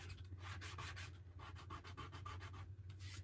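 Sandpaper rubs paint off a wooden DIY door hanger in steady, rhythmic back-and-forth strokes, close and continuous with a low hum underneath.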